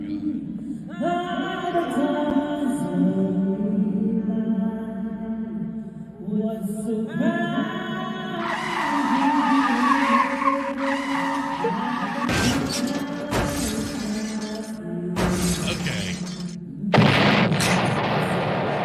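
A car skids and smashes into a gasoline tanker truck, with loud impact bursts and booms breaking through a dense, tonal background of music or voices.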